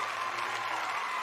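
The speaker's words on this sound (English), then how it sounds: "I can give claps right there" A burst of applause, dense steady clapping from a crowd that holds at even loudness throughout, with no talking.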